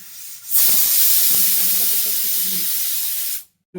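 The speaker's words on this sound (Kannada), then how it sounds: "ಇಲ್ಲಿ ಕುಕ್ಕರ್ ಸಿಟಿ ಬರ್ತಾ ಇದೆ ನೋಡಿ" A pressure cooker whistle blasts a loud, steady hiss of escaping steam for about three seconds, then cuts off abruptly, heard alone in a home kitchen.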